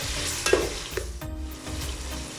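Green chillies and spices for keema pulao fry lightly in a pan, a steady close sizzle with stirring scrapes and a couple of clinks over about two seconds, no voices.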